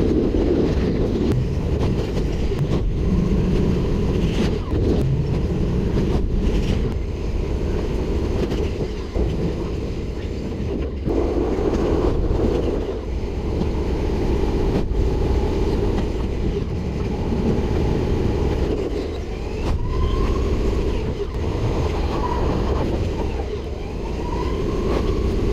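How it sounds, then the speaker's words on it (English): A high-speed train on the Southend-on-Sea to London Liverpool Street line rumbles along at speed with a steady, continuous roar and occasional rattles and clicks, heard from inside a carriage. "this train is about to go 250 miles per hour"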